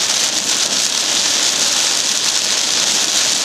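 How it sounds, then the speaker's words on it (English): Heavy rain squall from Tropical Storm Isaac in Fort Lauderdale, heard while driving: a loud, dense, unbroken hiss of rain pounding the car for the whole stretch. "We're driving into a pretty big squall here."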